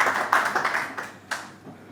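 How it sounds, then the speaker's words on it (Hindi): Enthusiastic applause from a live poetry show audience welcoming a guest, a dense burst of clapping that swells, dips, then surges again before fading. "एक बार जोरदार तालियां"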